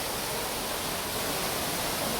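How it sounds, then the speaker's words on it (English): The Alexadra Waterfall in Antalya gives off a steady, dense rushing roar, loud and unbroken, like broadband hiss with no distinct splashes. "This is the Alexadra Waterfall."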